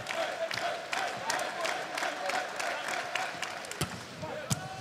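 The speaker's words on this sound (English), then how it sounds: "And with his teammates cheering on" Crowd noise and teammates' cheers fill a volleyball arena during a Hawaii versus Ohio State men's match, with scattered sharp ball hits and claps rising over a steady roar.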